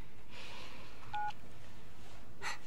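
Telephone number dialed by keypad, a short run of close, clear DTMF tones over a steady background hiss, no talking.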